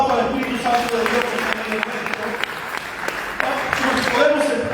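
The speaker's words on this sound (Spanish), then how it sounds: "Vamos a dar un aplauso al Espíritu Santo de Dios." A church congregation applauds together, a dense steady clapping that runs throughout under voices and the sound of the room.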